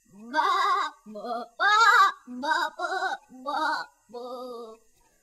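A white goat in an animated story bleats in a series of seven wavering, nasal cries separated by short pauses, loud and close, with no talk.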